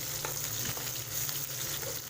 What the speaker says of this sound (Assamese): পিঁয়াজ জলকীয়া দি কিনে তেলত অকণমান ভাজিব লাগে